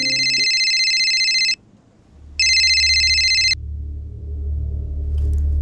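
A mobile phone ringtone sounds in a Hindi crime drama scene, two bright electronic bursts separated by a short pause, loud and close, followed by low background tones.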